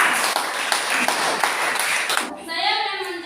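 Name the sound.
applause for a student group in class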